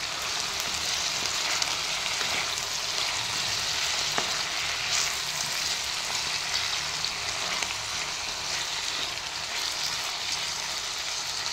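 Ivy gourd (dondakaya) sizzles steadily in a covered pan, an even, continuous frying hiss and crackle with no pauses and no voices.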